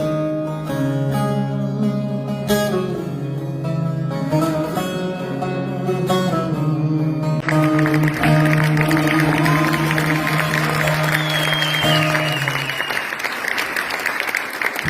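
A concert audience in Fethiye claps as a sustained musical chord rings out, the applause swelling into a dense, loud wash in the second half while the held tones fade.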